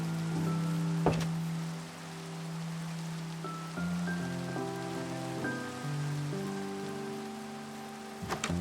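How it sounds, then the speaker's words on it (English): Rain falling in the Minecraft video game, a soft, steady patter that carries on throughout. Faint tonal background music sits underneath, and a couple of brief thumps break in near the start and the end. "It's raining as well"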